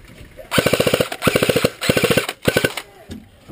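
Airsoft guns, a JG G36, KWA M16 and JG M4A1, fire several loud, rapid full-auto bursts of sharp clacking shots separated by short pauses, close by, with no talk over them.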